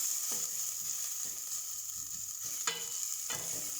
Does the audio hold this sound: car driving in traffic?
no